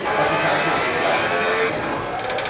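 Ducati Panigale V4 engine in a motorcycle simulator game, a steady mid-pitched engine drone at constant throttle that holds for the whole stretch, with a few faint clicks near the end.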